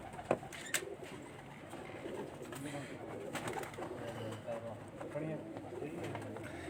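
Cooing of fancy breeding pigeons, a male and female pair, in a loft in Sukkur, soft repeated murmuring calls at close range, with someone talking over them and occasional wing flutters or handling sounds.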